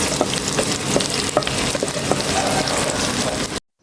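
Onions and garam masala frying in hot soybean oil for hilsa pilaf give a steady, dense, close sizzle with light crackle that runs unbroken for about three and a half seconds, then cuts off abruptly.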